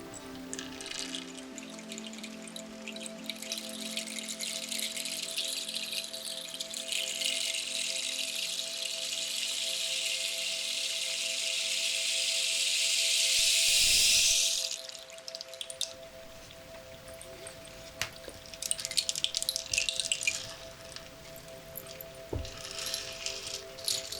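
Water drips and splashes in a soft, close rinsing, with a sustained hissy wash building for several seconds before stopping, then scattered light drops against a steady low hum in a quiet room.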